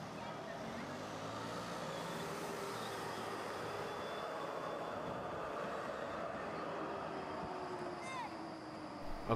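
An NGT 8D tram on line M1 in Braunschweig rolls into the Schloss stop with a continuous rumble and rising wheel squeal, screeching briefly near the end as it slows to a stop.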